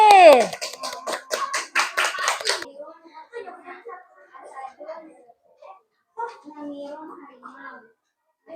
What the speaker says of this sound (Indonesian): Sekarang kita beri tepuk tangan untuk kelompoknya Pati.